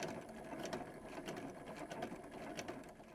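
A sewing machine stitches a fabric wallet in a quiet, rapid, rhythmic mechanical whir with faint regular ticks, running steadily with a brief slowdown near a corner, and no talking.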